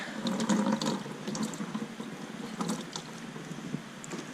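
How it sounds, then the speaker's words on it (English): Metal pieces coated in rust tonic are rinsed in a bucket of water, giving soft close splashing and sloshing that is strongest at first and then settles into gentle trickling, with no talk. "I am going to rinse this stuff off in a bucket here."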